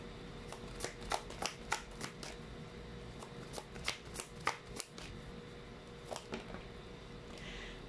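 A deck of tarot cards is shuffled close up in a quiet room, crisp riffles and flicking bursts repeating in uneven clusters with short pauses between them.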